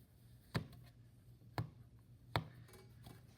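Scissors cut through a block of soaked Oasis floral foam: three crisp, faint snips spaced about a second apart over a quiet room hum.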